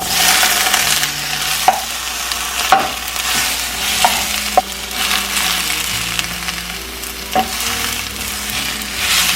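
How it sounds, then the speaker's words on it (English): Bok choy and minced garlic stir-frying in avocado oil, a loud close sizzle running throughout, broken by repeated clacks and scrapes of a utensil stirring the pan. "Keep stirring this until the leaves look a little wilted."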